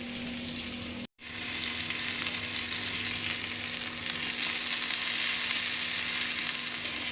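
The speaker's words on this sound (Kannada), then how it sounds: "ಇದು ನಾನು ಪಾಂಫ್ರೆಟ್ ಫಿಶ್ ಫ್ರೈಗೆ ಏನು ಮಸಾಲೆ ಏನು ಹೆಚ್ಚು ಹಾಕಲಿಲ್ಲ ಮಗನಿಗೆಲ್ಲ" Pomfret fish fries in a pan of hot oil, a loud, steady, close sizzle that runs nearly unbroken apart from one brief cut early on.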